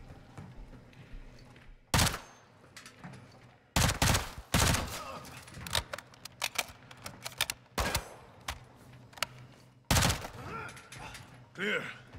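Gunfire from a Call of Duty: Modern Warfare II firefight, with sharp, loud broadband bursts at roughly two-second intervals and rapid clattering shots between them, set over a low ambient rumble.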